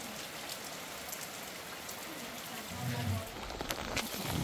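Rain falls steadily at the end of winter outside a house in a remote rural area, a dense even hiss of drops on surfaces throughout, with a few brief low thumps near the end.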